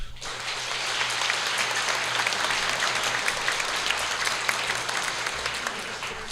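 Steady round of applause from the audience at a municipal all-candidates meeting after the mayoral candidates finish, dense even clapping filling the room throughout.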